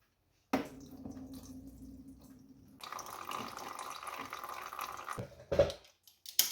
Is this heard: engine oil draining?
yes